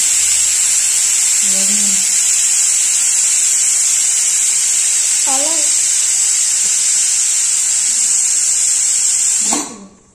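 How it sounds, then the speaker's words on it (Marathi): A loud, steady hiss of steam escapes continuously from a pressure cooker of mutton curry being released, then cuts off at the end, with a few brief voice sounds underneath. "चला आता आपण शिट्टी काढून घेऊ. पहिले वाफ काढून घ्यायची पूर्ण, मग कुकर खोलायचं बरं का."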